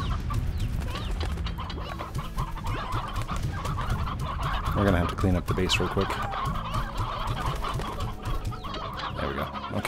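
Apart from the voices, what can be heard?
chickens clucking in the video game Slime Rancher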